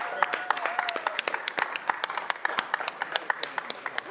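Applause from the audience at a regular city council meeting, a steady patter of many hands clapping close by that runs for about four seconds, with a brief voice at the start.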